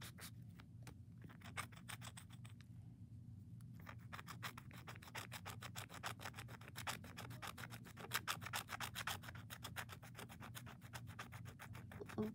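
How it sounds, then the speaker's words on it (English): A scratch art board is scraped with a stylus. Fast, steady, close strokes rasp and rub in a dense rhythm throughout, quiet and alone, with no talk. "Put a little mark where I need to start scratching"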